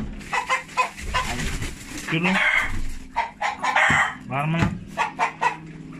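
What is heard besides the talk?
rooster crowing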